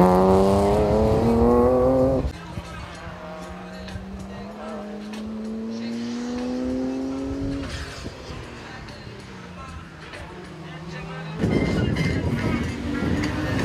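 A race car on semi-slick tyres driving warm-up laps at a racing event, loud in-car engine drone rising through gears with shift drops, under a voice talking through most of it.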